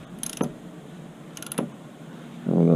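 A torque wrench tightens the oil filter on a Kawasaki Ninja ZX-14R motorcycle: two short bursts of ratcheting clicks, then a louder mechanical creak at the end, close up with no talk.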